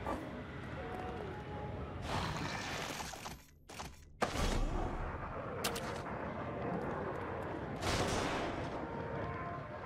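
Gunshots ring out in the survival horror game The Evil Within, several booming reports and a sharp crack spread across a loud, dense game soundscape with brief quiet gaps.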